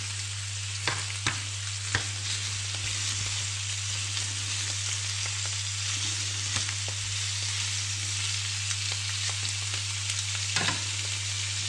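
Venison chops fry in a pan with a steady, dense sizzle and crackle, with a few sharper pops and utensil taps scattered through.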